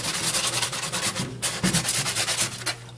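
Sandpaper rubs steadily over a dry gourd being prepared for a berimbau, making loud, close, rhythmic scraping strokes with a brief pause midway.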